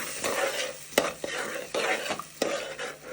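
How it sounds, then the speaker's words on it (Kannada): A cup of yogurt with garam masala frying in a pan, bubbling sizzle broken by regular spatula strokes and metallic taps against the pan, close and alone without speech. "ಫ್ರೈ ಮಾಡೋಣ"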